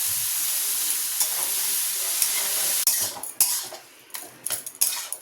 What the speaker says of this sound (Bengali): এবার সিদ্ধ করে রাখা মোচা আর ছোলাটা দিয়ে দেবো